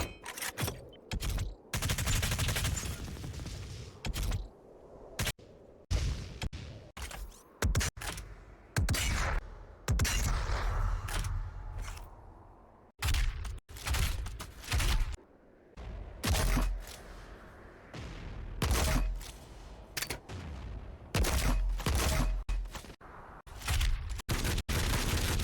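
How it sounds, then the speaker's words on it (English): Dense, rapid machine-gun fire from the Blood Magic Volley weapon in a Doom Eternal mod, with loud bursts of shots and booms that repeat in quick succession with only brief gaps between them. "this is going to be the Blood Magic Volley. Basically our machine gun."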